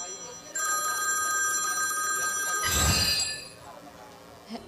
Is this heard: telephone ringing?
yes